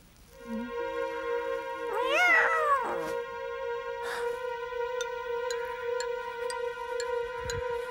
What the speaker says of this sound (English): You pesky cat!